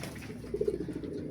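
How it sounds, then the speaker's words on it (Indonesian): Young Avanza pigeons coo in their loft, a short run of soft, low, closely spaced coos rising mid-clip over a faint background hum. "ini sepertinya anakan merpati Avanza ini betina-betina ya teman-teman"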